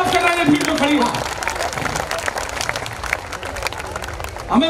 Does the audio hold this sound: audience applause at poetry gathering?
yes